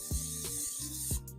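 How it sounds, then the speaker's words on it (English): Cooking spray hisses in short bursts onto the bottom of a cake pan for a German chocolate cake, quiet and close, with a few brief clunks of the can between sprays. "We're gonna spray this pan, okay, on the bottom"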